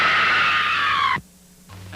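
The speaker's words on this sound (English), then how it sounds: "Scream for your life." A woman's sustained, loud scream from a scene in the King Kong film, holding steady for just over a second before cutting off abruptly into near silence.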